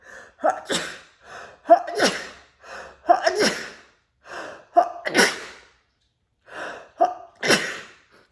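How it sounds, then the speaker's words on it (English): A woman gives a series of sharp, close sneezes, each preceded by a quick gasping inhale, repeating several times in uneven bursts with short quiet gaps between. "I'm going to sneeze right now."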